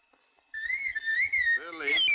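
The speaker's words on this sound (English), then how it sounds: "cool the whistle, please" A shrill toy whistle sounds steadily with a slight wavering pitch, loud and close, while a voice joins in toward the end.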